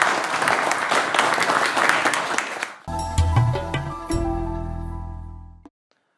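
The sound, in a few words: audience applause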